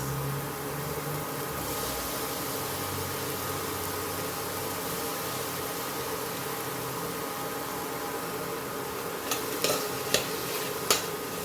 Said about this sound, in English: fry this till the tomatoes become soft.